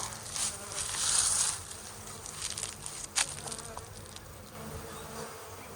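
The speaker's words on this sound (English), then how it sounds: "Lots of organized bees going into the box we want them to go into." Honeybees buzzing as they move into a box, a steady close swarm hum with some louder passes near the microphone, and no voices.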